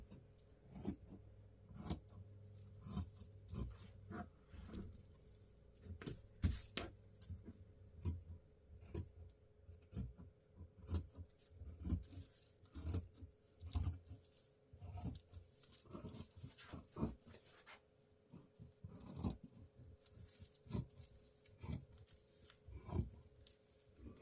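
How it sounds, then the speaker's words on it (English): Scissors cutting out fabric for a New Look 6603 sewing pattern, a steady run of quiet, close snipping and crunching blade strokes that repeats irregularly throughout with no talk. "I'm just cutting out the fabric."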